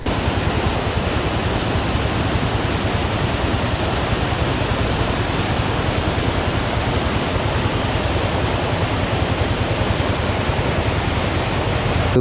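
A waterfall near Ramboda, Sri Lanka, roars as a steady, dense wash of falling water, loud and continuous with no voices over it.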